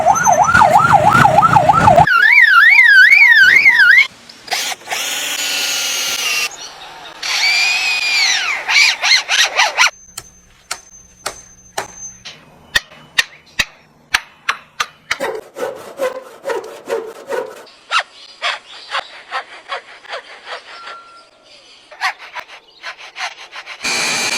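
A lyrebird rapidly mimics mechanical noises: warbling siren-like tones and rasping sawing like a drill machine, then a quick series of sharp clicks like a camera shutter.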